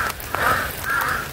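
Crows caw loudly and close by, a few harsh calls in quick succession with no talking.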